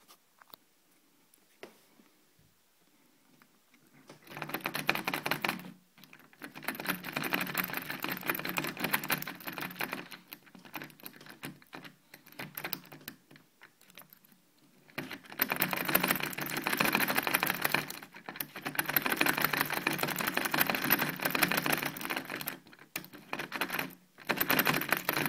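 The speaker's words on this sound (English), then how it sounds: "we're gonna try manual pick. My favorite, the hook style pick" Manual lock picking with a hook style pick and tension wrench, faint close scratchy clicking and raking in bursts separated by quiet pauses.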